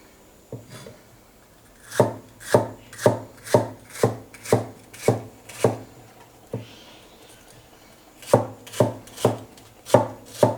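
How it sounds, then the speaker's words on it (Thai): Steady knife chops slicing bitter melon on a cutting board, a quick run of about eight evenly spaced strikes, a brief pause, then several more close, crisp chops. "แล้วเราก็คว่ำอย่างนี้นะครับแล้วก็หั่น หั่นเป็นชิ้น"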